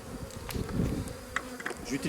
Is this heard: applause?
no